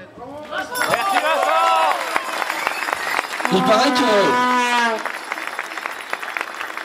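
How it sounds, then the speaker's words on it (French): Spectators at a cross-country skiing event applaud steadily in a dense, moderately loud crowd sound, while someone speaks over the clapping and other voices chatter nearby. "le public, il est d'accord pour les applaudissements"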